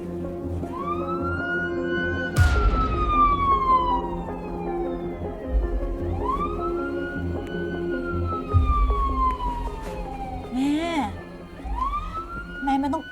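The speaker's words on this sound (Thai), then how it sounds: "รถตำรวจเต็มหน้าบ้านขนาดนี้ มันไม่กล้ามาหรอกค่ะ" Police car sirens wail outside a house, each slow rising and falling sweep repeating loudly and close by, with a heavy low thump breaking in twice under the wail.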